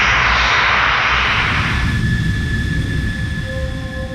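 A fighter jet's engine roars loud and steady, a broad rushing thrust with a high whine that settles into a sustained drone, no voices over it.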